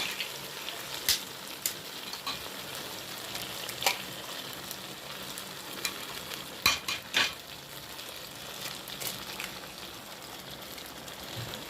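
Menemen with eggs cooking in a pan, a faint, steady sizzle and bubbling simmer, broken by scattered sharp clicks and scrapes of a utensil against the pan, close and quiet, with no speech.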